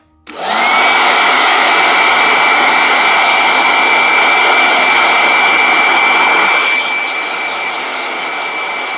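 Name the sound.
hair dryer blowing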